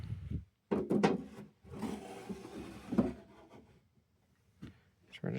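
Wooden drawer of an antique Art Deco record player stand being turned around and handled, giving several near wooden knocks and scraping rubs, a louder cluster early and another around the middle, then quieter.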